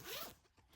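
A single quick zip runs along the zipper of a homemade fabric packing cube, a short, close, raspy pull that fades out within a second.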